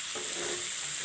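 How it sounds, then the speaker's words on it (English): Mixed vegetables such as broccoli, carrot and capsicum, seasoned with salt, saffron and chili powder, frying and being stirred, giving a steady close hiss with a soft scraping motion underneath, brief and continuous. "stir it well. The salt, the saffron and the chili powder mixes well in it."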